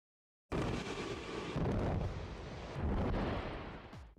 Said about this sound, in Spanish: Mientras la roca explota